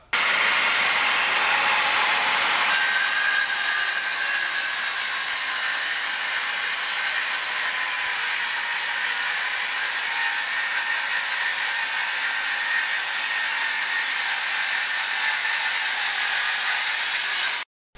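A Metabo KS 18 LTX 57 18V cordless circular saw runs along a guide rail cutting wood, a loud continuous high whine held steadily for about seventeen seconds before stopping abruptly.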